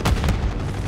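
A heavy mortar blast in Call of Duty: Black Ops 6, a single loud, booming thump with a rumbling tail lasting under a second, no talk.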